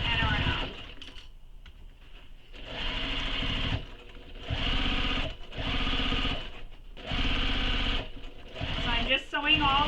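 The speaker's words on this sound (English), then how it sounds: "Starting at the top, back stitch, and sew all the way down and around." Sewing machine back stitching and sewing a tote bag in repeated bursts of rapid rhythmic stitching, separated by short pauses, close and clear with no talking.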